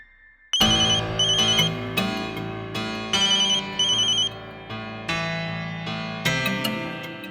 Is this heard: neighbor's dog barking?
no